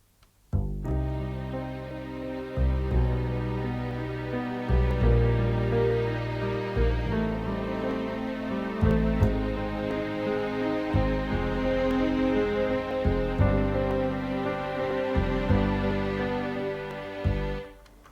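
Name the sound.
orchestral strings arrangement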